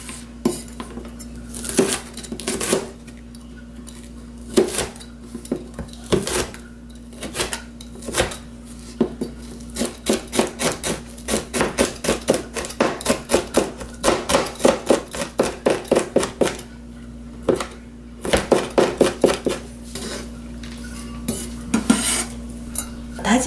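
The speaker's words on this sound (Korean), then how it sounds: "얼려놨던 거를 이제 해동하기 전에 바로 얼은 상태에서 바로 다져야 됩니다." A knife mincing frozen cheongyang chili peppers on a cutting board, a long run of rapid, sharp chopping taps in bursts with brief pauses, close and loud with no talking.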